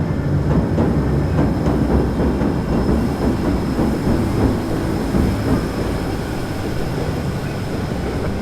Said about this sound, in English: I'm under the electric railroad.